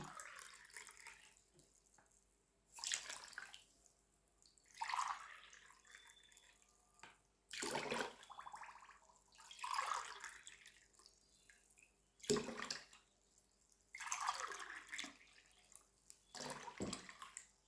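Water poured from a measuring cup into a pot for the sugar syrup of a soft, honeyed almond cake (qalb el louz), in about six separate splashing pours with quiet pauses between them, close by and with no talking.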